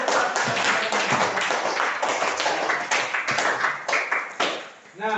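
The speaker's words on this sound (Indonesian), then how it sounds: "Kita kasih tepuk tangan semua untuk" Classroom clapping for a student group at a junior high school, a modest scatter of hands that rises and falls unevenly, with a voice briefly heard near the end.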